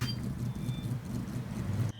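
A Nissan Silvia S14 engine idles in Forza Horizon 3: a steady low hum on its own, a constant rumble with faint ticking, fairly quiet.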